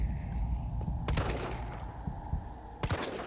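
Gunfire from the survival horror game Resident Evil 3, with two sharp loud shots standing out close over a dense, rumbling game soundscape.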